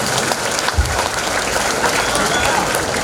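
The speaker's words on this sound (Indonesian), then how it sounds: "Beri tepuk tangan yang meriah Bapak Ibu" An audience at a gathering applauds with a broad, steady wash of clapping from many people, loud and close, with a brief low thump early on.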